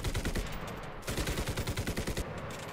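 Rapid gunfire crackles in a World War I battlefield video game, dense overlapping rifle and machine-gun shots in quick rhythmic bursts, moderately distant and continuous, with a brief lull around the one-second mark.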